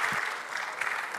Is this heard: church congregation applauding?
yes